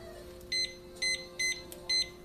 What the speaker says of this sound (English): So we're going to set a timer